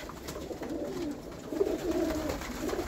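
Pigeons coo softly in a loft, low rolling calls repeating close by over a quiet background, with one sick bird among them.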